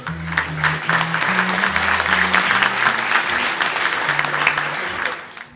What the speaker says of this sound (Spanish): Vamos a recibir con un fuerte aplauso al ciudadano Misael López Rodríguez.